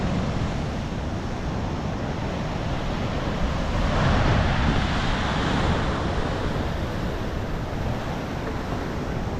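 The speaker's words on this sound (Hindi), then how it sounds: "और लहरें देखो कितनी बड़ी बड़ी आ रही है" Large sea waves roll in steadily against a rocky, stony shoreline near a beach, a continuous loud broadband roar of surf with a gentle swell in intensity midway, no voices present.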